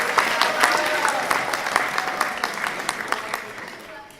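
Moderate applause from a school audience greeting a named finalist at a reading event, with distinct individual claps standing out and a few voices underneath before it dies away.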